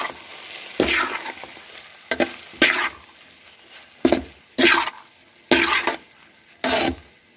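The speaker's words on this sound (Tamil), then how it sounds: "இதை நல்லா மிக்ஸ் பண்ண போகிறேன்" Cauliflower fried rice with added salt being stirred in a pan, giving seven or so distinct loud scraping, sizzling strokes at irregular intervals over a quieter background sizzle, close by with no talking.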